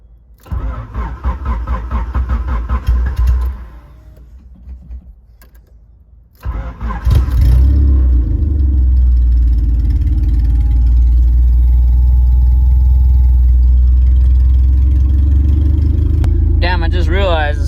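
A weak-battery car being jump-started cranks with rapid rhythmic churning, pauses, then catches and settles into a loud, steady close idle; a voice briefly speaks near the end.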